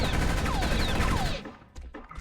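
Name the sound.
gunfire shooting aliens in video game Space Beast Terror Fright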